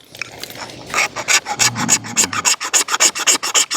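A Harbor Freight Chinese-made magnesium fire starter rod scraped hard in a rapid series of loud, rasping strokes, about a dozen close strokes speeding into a steady rhythm with no talking.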